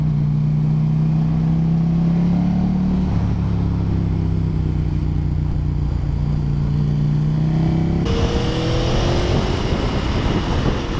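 Aprilia Tuono motorcycle engine pulling steadily with a droning mid-pitched tone that rises gradually, then shifts to a harsher, busier roar near the end, loud and close under wind rush.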